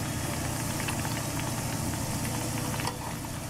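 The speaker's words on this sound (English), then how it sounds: "just leave it in the fat, deep frying" Continuous bubbling sizzle of leek deep frying in hot fat, steady and close, with a low hum underneath and no talking.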